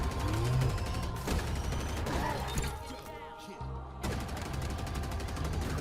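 A mounted turret fires in a Halo video game, pounding out continuous rapid loud gunfire with mechanical clatter that thins briefly in the middle before resuming, with a voice talking over it.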